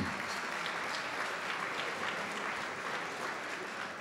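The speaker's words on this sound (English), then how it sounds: "Yes, you may applaud." An audience at a 40th-anniversary gala night applauds in a steady, sustained burst of clapping from a large crowd that fills the hall evenly from start to finish.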